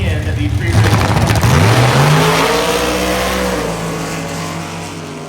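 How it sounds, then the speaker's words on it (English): A 1965 Plymouth Belvedere drag car in a street race revs hard, its engine pitch sweeping upward and then settling into a sustained roar that gradually fades into the distance. "The Belvedere running in the street race."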